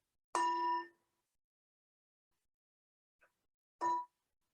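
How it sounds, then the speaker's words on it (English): A meditation bell is struck once in a quiet room, ringing clear and close with a short decay, followed after a pause by a faint tap and then a second, softer strike. "So the bell can invite us to go again into meditation mode."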